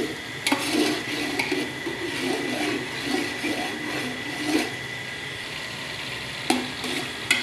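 Onion, garlic and green chili fry in a large pot over a stove, a steady close sizzle broken by occasional sharp clinks of a utensil stirring against the metal pot.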